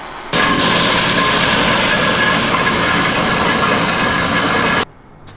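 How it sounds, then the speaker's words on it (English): A bandsaw in a workshop trims a part, a loud constant whirring, buzzing cut that starts abruptly, holds steady for about four and a half seconds, then cuts off. "And then I'll put it in the bandsaw and trim it out."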